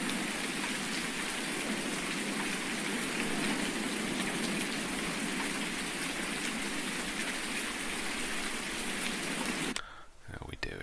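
Steady, dense rain hisses across a farm in the Farming Simulator video game, a constant even downpour that cuts off abruptly near the end.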